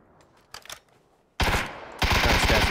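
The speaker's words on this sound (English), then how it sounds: "I'm just shooting." Bursts of automatic gunfire in PUBG, first a few faint distant shots, then two loud sustained volleys of rapid fire close by.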